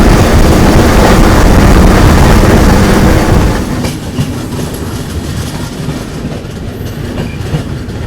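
The Satyagraha Express rolls onward after leaving Bettiah station in Bihar, a loud continuous rumble with steady clickety-clack of wheels, easing slightly partway through while staying dense and close.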